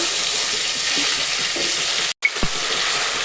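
Onion, green chillies and curry leaves sizzle loudly in hot oil, a dense, steady frying hiss up close. A brief drop-out comes near the end, followed by a single soft knock.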